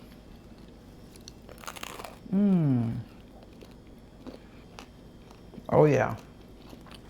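Two loud, close crunchy bites into crusty cranberry walnut bread dabbed with butter, a couple of seconds apart, with a brief spoken remark between them.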